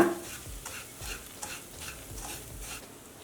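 Semolina (Bangalore rava) dry-roasting in a pan on medium flame with ginger and curry leaves, stirred steadily with a spoon, giving soft rhythmic scraping strokes over a faint sizzle, close and quiet.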